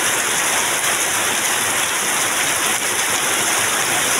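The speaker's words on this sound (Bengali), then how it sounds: "প্রচুর পরিমাণে বৃষ্টি হচ্ছে।" Heavy rain pours down steadily in a flood-hit area, a dense, unbroken roar of water that stays loud and even throughout with no voices.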